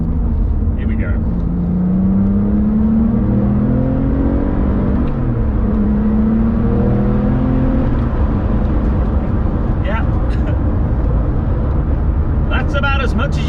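A Porsche 911 996 GT2 Clubsport engine roars as it accelerates through two gears on a UK public road, pitch climbing and dropping with gear changes, loud and continuous, with talking partly underneath.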